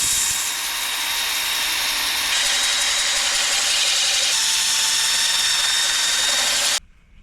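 A maple bowl spinning on a woodturning lathe while being sanded gives a loud, steady whirring hiss with a faint rising whine, and it stops abruptly near the end.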